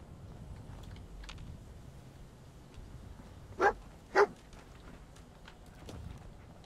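Dogmeat, the dog companion in the Fallout 4 video game, gives two short sharp barks in quick succession over a low game ambience, with faint scattered rustles before and after.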